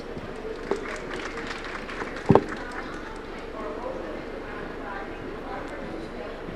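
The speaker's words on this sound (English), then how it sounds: "Please give a round of applause again for our presenter, Ji-yoon Park." Applause from a conference audience for a presenter at a COP30 event, heard faintly in the background with a few sharper claps, under a low hum of the room.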